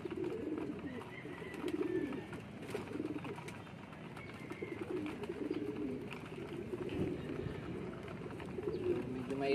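Pigeons coo softly and repeatedly in a loft or coop during pigeon racing pooling, low murmuring calls continuing throughout under steady background noise.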